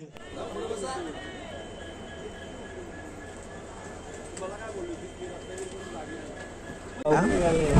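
A Konkan Railway train from Mumbai to Ratnagiri rumbles steadily amid crowd chatter on a platform, with a louder rush of noise as it draws in near the end.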